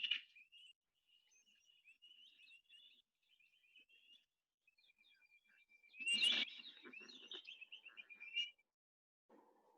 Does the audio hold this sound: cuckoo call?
yes